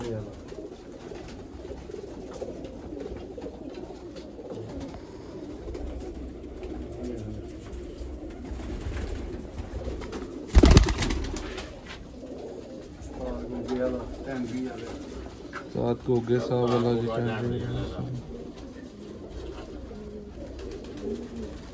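Pigeons coo softly beneath nearly constant conversation among men, with a sharp thump around the middle and some busier bird sounds later on.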